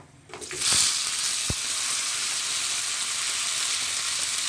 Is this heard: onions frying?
yes